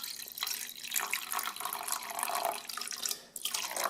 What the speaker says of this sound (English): I'm going to pour some of this into this bowl.